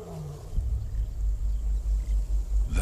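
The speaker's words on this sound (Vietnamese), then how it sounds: "Có một tiếng gầm vang vọng đâu đó." A lion roars at dusk in the wild, deep, rolling rumbles pulsing several times in a row, sounding distant and echoing with nothing else over them.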